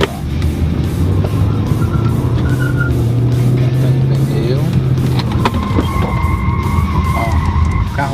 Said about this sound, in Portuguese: 40 por hora começou a cantar pneu.